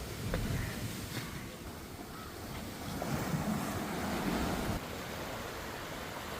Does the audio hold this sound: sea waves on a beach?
yes